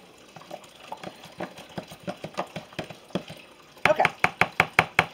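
Pudding being mixed into pie filling for an easy pumpkin dip: a rhythmic series of soft, wet knocks and scrapes that turn sharper and louder for the last several strokes, with no voices.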